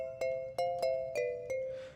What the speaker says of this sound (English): Comb mallets, what do those sound like?